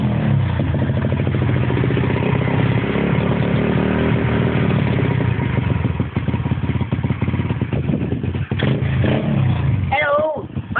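A pit bike engine revs hard and continuously, a loud, buzzy, close mid-pitched drone that roughens toward the end, with voices underneath.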